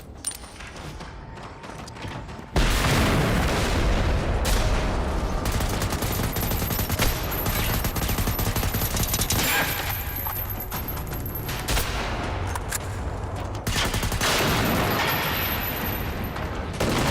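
A hand grenade explodes with a sudden loud broadband blast in Generation Zero, followed by sustained heavy gunfire and rumbling that stays loud and dense to the end.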